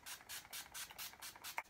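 MAC Prep and Set spray misted onto the face in a series of about seven short, soft hissing bursts in a steady rhythm, fairly faint and close.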